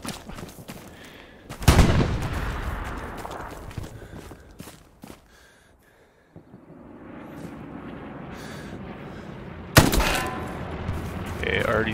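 Gunfire in the World War II shooter Brothers in Arms, with loud bursts of shots near the start and again later, a quieter stretch between them, and busy battle noise underneath.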